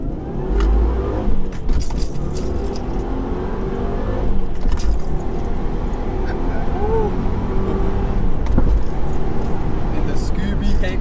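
A Subaru car is driving, its engine running as a steady low rumble with rising and falling tones, while people talk over it throughout.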